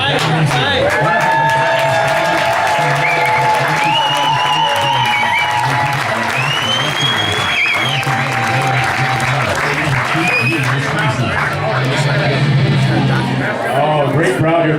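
A live crowd at a Schmidt's Wheels event claps and cheers in sustained, dense applause with whoops, while a voice talks over the noise.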